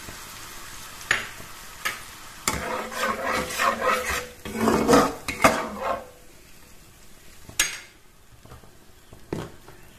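Cumin and chili paste hits hot oil in a pan for a potato and fish curry, giving intermittent sizzling bursts and scraping stirs that rise and fall over several seconds, with no talk.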